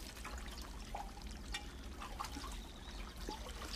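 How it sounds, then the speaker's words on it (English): A continuous stream of spring water piped into a basin beside an ornamental carp pool in the Japanese countryside: a faint, steady trickle and splash at low level, with no voices. "A continuous stream of spring water is piped right into a basin"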